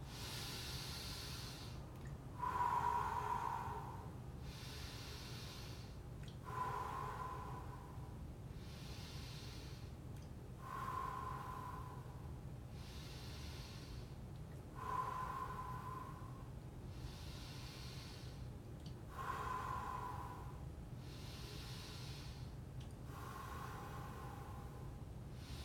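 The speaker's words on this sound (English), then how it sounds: "Breathing exercise." Slow breathing exercise: long, hissing breaths repeat about every four seconds, each swelling then fading, close and fairly quiet over a steady low background hum.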